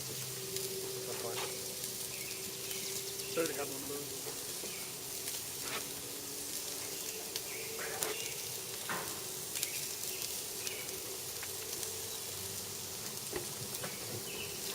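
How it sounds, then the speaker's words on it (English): Ribeye steaks sear in a hot pan with a steady broadband sizzle and crackle throughout, scattered pops and spatters rising over the hiss. "Now, one of the things that I really want to do is I just want to give these a good sear."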